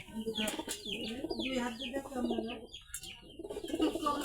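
Pigeons coo in a loose, repeating run of low throaty calls, close and moderately loud, with some softer chirps mixed in across the few seconds.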